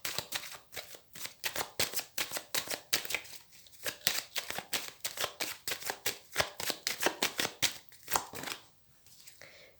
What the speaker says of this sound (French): je vais faire une coupe avec le tarot que j'utilise pour les consultations